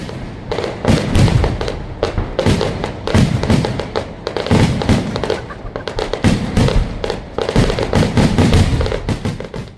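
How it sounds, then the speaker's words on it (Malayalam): Ritual fireworks at a temple festival in Kerala crackle and boom in dense, loud volleys, with rapid overlapping bangs and heavy thuds filling the whole stretch without pause. "ആചാര വെടിക്കെട്ട്."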